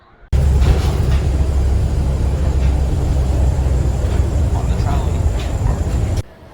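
A Miami Metrorail train runs with a steady, loud low rumble that holds for about six seconds, with some voices faintly underneath.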